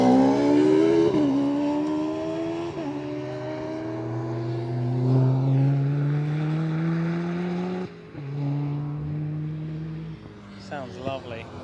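A loud turbocharged Mazda MX-5 engine revs and climbs through several gear changes, each shift dropping the pitch before it rises again, passing close by with crowd talk underneath.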